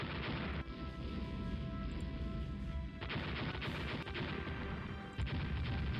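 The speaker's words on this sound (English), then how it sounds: "Another torpedo." Torpedo strikes and naval gunfire in the warship game Rule The Waves, a dense, continuous roar of blasts and crashing impacts with sharp onsets near one, three and five seconds.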